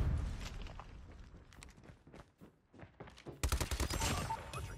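Rapid bursts of TAC-9 burst-fire gunfire in the COD Mobile video game, crackling in clustered volleys with a short lull midway, then louder, denser shots toward the end, with no talking.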